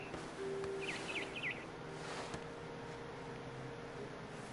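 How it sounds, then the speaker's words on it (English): A barn swallow in the game What Remains of Edith Finch gives a few quick, faint chirps in a short run, set against a soft steady background hiss. "Then I heard chirping outside my window. It was a barn swallow going back to her nest."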